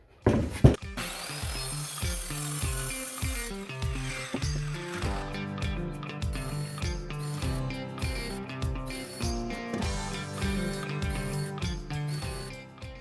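Steady back-and-forth strokes of a hand saw cutting through a wooden board for an owl nest box, rhythmic and close, with a brief scraping start before the sawing settles in.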